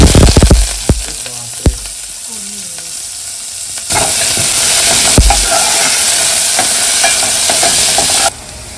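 Onion frying in oil with ground masala in a home kitchen, first a few clanks of stirring against the pan and then a loud, steady sizzle that cuts off abruptly near the end.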